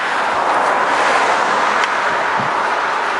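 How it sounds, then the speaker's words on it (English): Road traffic rushes past a walker on a roadside hike in the Wiregrass area of Lower Alabama, with a loud, continuous whoosh of vehicles and wind. "Traffic's a little noisy out here."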